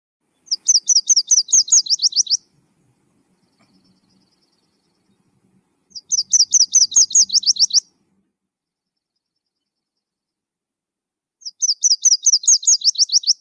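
Three bursts of recorded warbler song, each a rapid high trill of repeated chirps lasting about two seconds, separated by pauses of quiet.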